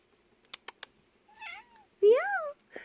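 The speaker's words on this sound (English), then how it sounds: "She comes over and meows because she thinks she needs food" A pet cat meows twice indoors, close and clear: one rising, bending call, then a louder drawn-out meow, after a few sharp keyboard-like taps and followed by a brief short sound.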